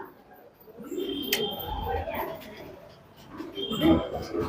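Soft coos of Tonk pigeons murmur at close range amid background chatter and faint bird chirps.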